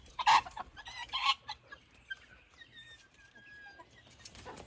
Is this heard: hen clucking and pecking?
yes